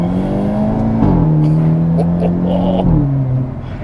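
A 2023 Hyundai Elantra N turbo compact sedan launches hard, its engine droning loud and close as the pitch climbs, drops at each gear shift, then climbs again, with a faint voice briefly underneath.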